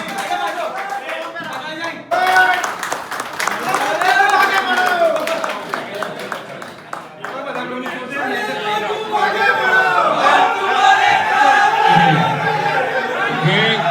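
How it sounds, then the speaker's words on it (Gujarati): Audience applause and crowd chatter at an electronics media association award ceremony, a dense, sustained wash of clapping and voices running throughout with steady loudness. "આપણે તાળીઓથી એમને વધાવી લઈશું."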